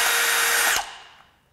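A Milwaukee M18 FUEL 2906-20 1/2-inch hammer drill/driver whirs loudly at full speed, then cuts out abruptly and spins down to quiet, close by.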